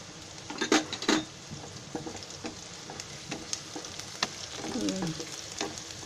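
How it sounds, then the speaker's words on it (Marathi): Curry leaves sizzle in hot oil in a home kitchen while chicken fried rice is being made, giving a continuous crackling fry with a few sharp pops and light utensil clinks. "त्याच्यामध्ये हा कढीपत्ता टाकते."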